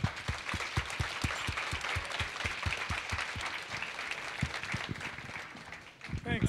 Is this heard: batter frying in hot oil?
no